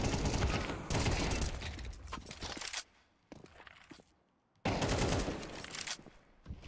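Bursts of rapid gunfire from the video game Counter-Strike 2 during a major tournament quarterfinal, loud volleys that stop abruptly, leaving a quieter stretch of faint footsteps and scuffs before another heavy burst.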